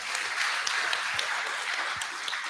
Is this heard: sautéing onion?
no